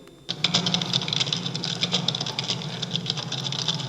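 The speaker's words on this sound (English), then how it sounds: "those are multiple subjects typing" Several people type at once on computer keyboards, the keystrokes blending into a steady, dense clatter that starts abruptly and continues without pause, fairly loud and close.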